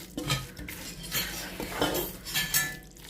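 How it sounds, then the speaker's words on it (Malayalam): Squid fry being stirred in a pan, with metal utensils clinking and scraping against the pan in irregular bursts close up, over a faint sizzle. "ഇത് നമുക്ക് നല്ലോണം ഒന്നും കൂടെ ഇളക്കി യോജിപ്പിച്ച് കൊടുക്കുക."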